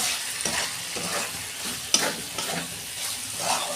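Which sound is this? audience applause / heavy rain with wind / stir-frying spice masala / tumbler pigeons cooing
stir-frying spice masala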